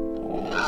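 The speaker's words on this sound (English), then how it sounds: "Common warthog." A common warthog gives a short, harsh growling grunt, a single sub-second call with buzzy, rough tonal layers, close and fairly loud, with no talking.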